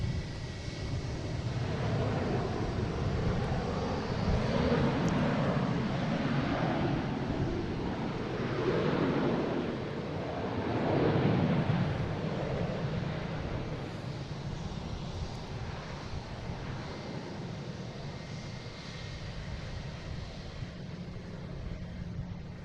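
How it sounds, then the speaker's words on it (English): An Airbus A340 from Frankfurt comes in to land at Boston Logan International Airport. Its broad, rushing jet roar swells and fades over about twenty seconds at a moderate distance, blended with wind noise. "Coming in from Frankfurt, A340"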